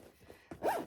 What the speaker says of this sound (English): Zip everything into the zipper.